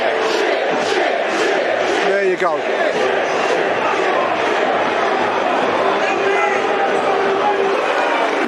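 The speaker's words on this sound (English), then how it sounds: "Boos for the players that have come down to the Millwall end." Millwall football fans in the away end boo their players, a loud, sustained crowd roar of jeers and shouting with chatter mixed in, and a nearby voice speaks briefly over it.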